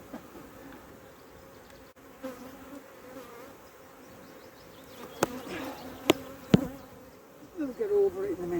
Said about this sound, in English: The bees aren't happy.